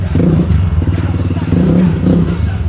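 A motorcycle with an aftermarket exhaust pipe idles and rumbles steadily during a sound check, its low engine note running throughout beneath people talking nearby.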